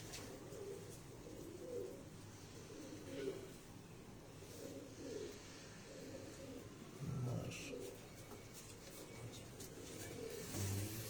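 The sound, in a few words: pigeons cooing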